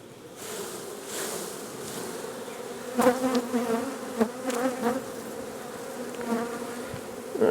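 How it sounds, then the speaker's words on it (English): A dense, steady buzz of many honeybees as a hive frame is shaken, swelling into sharper, louder bursts of agitated buzzing partway through, with no talking. "I'm going to shake the bees off"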